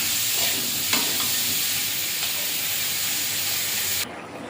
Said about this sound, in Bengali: ভালো করে নাড়াচাড়া করে দেবো